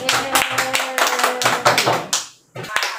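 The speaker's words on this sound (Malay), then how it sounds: "Tepuk tangan." Children in a classroom clap their hands together in a quick, rhythmic burst of loud, close claps. The clapping pauses briefly and then resumes for a few more claps.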